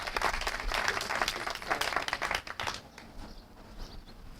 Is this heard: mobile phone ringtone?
no